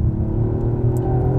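A Toyota Yaris GR with 261 hp roars under acceleration, a loud, close, continuous engine drone with a deep rumbling tone and no voices.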